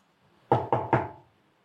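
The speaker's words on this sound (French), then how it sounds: "Je suis à la porte et je frappe." Three sharp, evenly spaced knocks on a wooden door, close and clear with a brief resonant decay, heard alone in silence.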